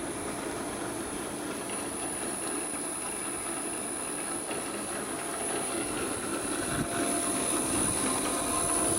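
An electric motor salvaged from a cooling tower runs with a steady, even whine and broad droning hum throughout, no voices over it.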